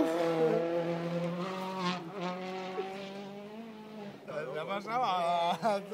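A rally car at a 2011 rally event roars past nearby, its engine note rising and then falling, while excited voices chatter over it and the revving pulses toward the end.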